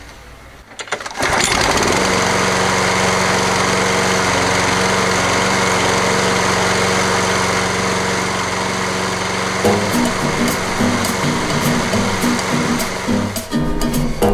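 A Toro 20789 lawn mower with a worn Briggs & Stratton Intek engine starts up and runs steadily and loudly at close range, with a slight change in tone and a few clicks toward the end.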